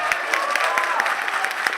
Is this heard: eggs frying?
no